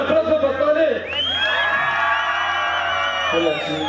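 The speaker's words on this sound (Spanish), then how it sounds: "¡Un aplauso para Tole!" Karaoke crowd in Las Jicamas erupts in whoops, cheers and yells after a performer is introduced, loud and sustained with shouting voices layered over the noise.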